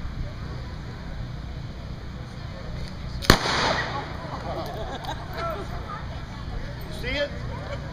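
A single sharp, loud revolver shot cracks out during a fast-draw demonstration, standing out from steady outdoor background noise and murmuring voices.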